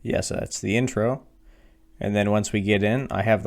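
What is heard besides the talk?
No everyday noise stands out behind the speech.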